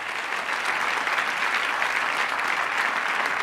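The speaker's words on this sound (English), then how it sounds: "a big round of applause for all of our content partners" A large audience at an awards ceremony gives a steady, even round of applause for content partners, a dense wash of clapping heard alone and sustained throughout.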